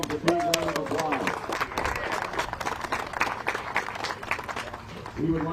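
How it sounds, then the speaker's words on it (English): Spectators clap at an outdoor disc golf tournament, a scattered, steady patter of applause lasting several seconds while voices talk over it. "Give yourselves a big round of applause."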